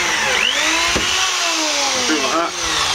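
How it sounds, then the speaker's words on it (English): A 5mm drill bores holes into a wooden pomander, giving a loud, steady whine close by whose pitch dips and climbs as the bit loads and frees up in the wood. "I'm just taking in this case, a 5mm drill, and I'm just drilling holes as perpendicular to the surface as I can"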